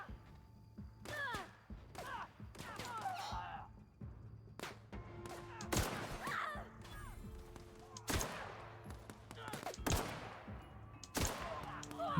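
Sniper rifle shots in a video game, sharp cracks spaced irregularly through the passage, some near and loud, others fainter, mixed with thuds and a player's voice.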